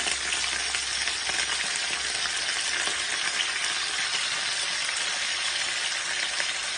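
Steady, dense sizzling and crackling of chicken skin frying in hot olive oil, continuous and close, with no voices.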